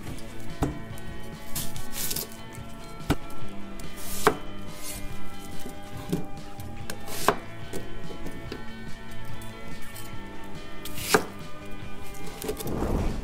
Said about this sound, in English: And we'll just cut those. Yeah, the onions.